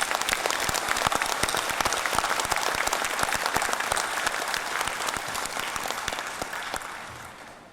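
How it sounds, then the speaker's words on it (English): A crowd applauds steadily at the Global Peace Convention 2017 in Manila, Philippines, dense clapping filling the room at full strength before gradually fading toward the end. "Let's give all those participants a round of applause."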